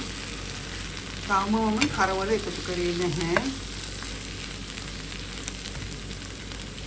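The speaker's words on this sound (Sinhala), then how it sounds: "දැන් මම මේ සියලුම අමුද්‍රව්‍ය ටිකක් කලවම් කර ගන්නවා." Ingredients fry in a pan with a steady, close sizzle while a utensil stirs them, and a voice talks briefly over the hiss partway through.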